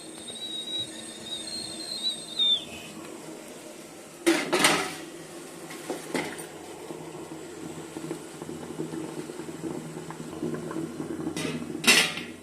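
Metal clatter from an idli steamer pot as millet wheat semiya is set inside and the lid is closed: a few sharp clanks and knocks spread over the stretch, with quiet kitchen background between them.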